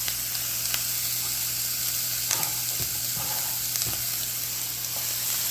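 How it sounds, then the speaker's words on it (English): Onions sizzle steadily in a hot frying pan, a dense, continuous hiss with a few faint clicks and stirring scrapes, close and alone without talk. "And now I'm going to add the onions."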